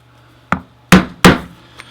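Hammer striking a 3/4 inch hole punch through leather, with one light tap followed by two loud, sharp whacks at close range and a faint final knock.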